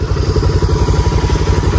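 A motorcycle rides along a mountain road toward Manang, its engine a loud, close, throbbing drone with a fast regular pulse and no break in the short stretch.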